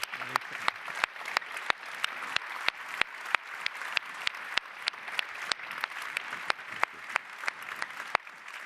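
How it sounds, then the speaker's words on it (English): Applause from the audience greeting the guests at a public discussion on ethics, values and politics, a continuous wash of clapping punctuated by regular sharp, close claps cutting through, with no talk. "Please help me give a round of applause to our outstanding guests today"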